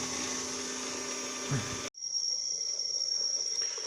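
A brushless DC motor on a DC motor controller board at 4.5 volts emits a constant high-pitched electric whine, briefly cutting out partway and then resuming as a thinner, steady tone.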